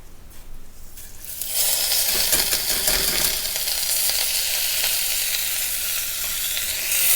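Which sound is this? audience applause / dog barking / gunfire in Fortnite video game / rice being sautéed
rice being sautéed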